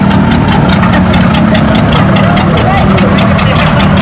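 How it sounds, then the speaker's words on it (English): Tractor engines labor at an outdoor tractor pull on a rain-soaked clay track, including a John Deere and a Moline, with a loud, steady low mechanical roar and rough knocking throughout, heard under crowd noise and talk. "And I can hear the John Deere stop at"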